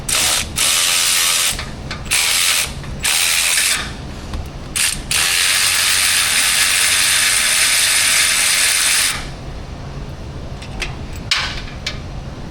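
A ratchet on a 15mm swivel socket works loose the bottom turbo studs of a Ford F150 2.7 EcoBoost. Loud, close, rapid pawl clicking comes in sustained runs with short pauses between strokes.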